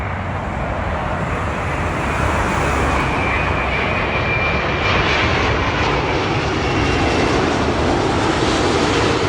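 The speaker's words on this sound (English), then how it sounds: "Virgin Atlantic, A330, coming in from Boston." A Virgin Atlantic Airbus A330 arriving at Heathrow from Boston roars past, a loud sustained jet engine rumble and whine that holds steady with a slight swell midway, with no voices.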